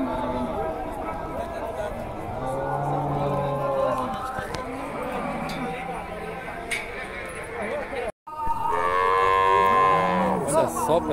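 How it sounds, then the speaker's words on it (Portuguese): Cattle lowing repeatedly at a busy livestock fair in Campina Grande, Paraíba, loud and close, with people chattering and someone talking over the moos throughout. "Olha só, pessoal, que vaca bonita aqui, ó."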